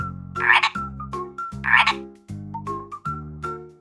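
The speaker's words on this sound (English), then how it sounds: "Frog." A frog croaks repeatedly in a steady run of throaty calls, a few of them louder and harsher, close up with no voices.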